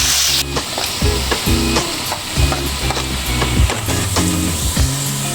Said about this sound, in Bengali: এবার আমি তেলে ছেড়ে দিচ্ছি আলুগুলো।